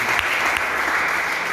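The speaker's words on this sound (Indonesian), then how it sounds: "Tepuk tangan yang berikan Tuhan Yesus." A church congregation applauds in dense, steady clapping that fills the whole moment, loud and close with no voices rising above it.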